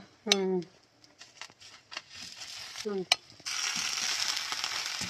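Dosa dusted with chilli powder roasting on a hot pan, a steady bright sizzle filling the second half after brief clattering and taps, with voices talking over the start.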